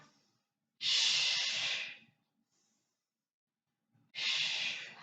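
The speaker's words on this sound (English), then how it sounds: "Inhale to exhale" Slow, audible breaths during a classical Pilates mat workout, two long airy exhales separated by near silence, close and soft.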